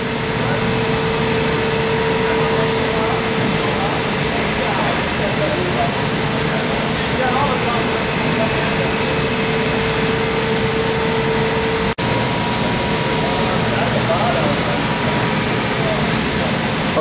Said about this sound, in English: Can you manually bring the ram down?